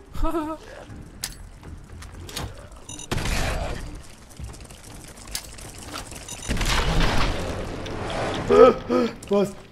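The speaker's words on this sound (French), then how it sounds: "Ça fait très mal les explosions." Explosions and gunfire from the video game Fallout 4, with broadband blasts at about three and six and a half seconds, rumbling and crackling through busy game action, with a voice talking over parts of it.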